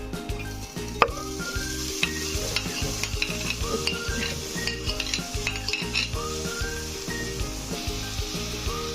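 Onion, chili pepper and garlic frying in hot sunflower oil, a loud continuous sizzle close up with repeated scraping and stirring strokes of a utensil against the pan throughout.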